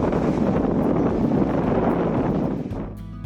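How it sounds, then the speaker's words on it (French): Strong wind on seaside rocks at San Sebastián, Spain roars and buffets the microphone in a steady, loud rush, easing off near the end. "Ça souffle Marcel, beaucoup de vent."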